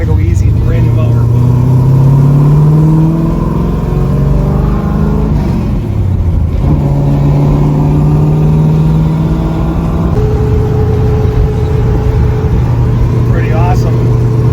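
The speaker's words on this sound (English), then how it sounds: "LS3. Got a nice cam, nice rumble to her." A Chevrolet Camaro's freshly rebuilt LS3 V8 with a lumpy cam rumbles at a slightly high idle and revs up, its deep engine note rising and falling close by while someone talks over it.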